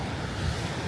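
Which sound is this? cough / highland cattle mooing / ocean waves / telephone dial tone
ocean waves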